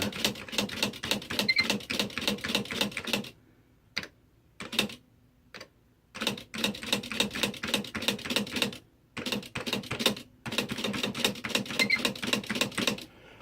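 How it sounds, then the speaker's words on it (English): Crisp, rapid key strikes on a Smith Corona SC210 typewriter come in close, loud bursts of clacking broken by brief silent pauses. "Let's go ahead and just type some keys, just go through them."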